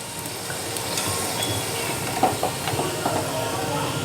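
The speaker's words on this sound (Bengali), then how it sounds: "দেখুন এরকম হালকা করে লাল লাল করে ভেজে নিতে হবে। আর কতটা খাস্তা হচ্ছে।" Chicken keema puri frying in hot oil until crisp, giving a steady close sizzle with scattered pops and crackles throughout.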